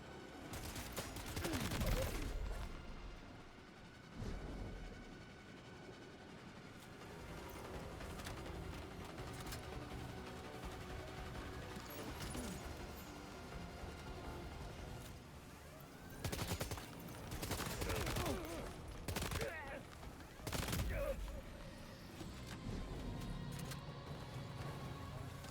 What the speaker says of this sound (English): we're gonna need to switch to the guns.